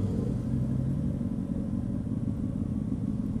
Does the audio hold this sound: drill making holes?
no